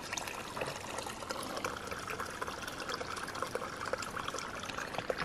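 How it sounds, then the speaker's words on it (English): Water flowing out of a bush pond into a small creek, a steady close trickle and gurgle running continuously with no talk. "The water runs out of the pond."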